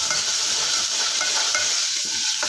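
Ground masala with turmeric and a little cumin frying in a pan for a bombil bhaji, a steady close sizzle with light stirring scrapes, no talking.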